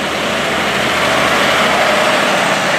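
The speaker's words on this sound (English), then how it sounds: "John Deere 6150N." A John Deere 6150N tractor engine idles close by, giving a steady, loud, broadband rumble with an even drone and no speech over it.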